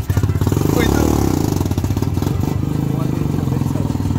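A bored-up TVS motorcycle engine revs close and loud, a rapid pulsing drone that climbs in pitch and then settles into a steady fast throb, with some mechanical clatter.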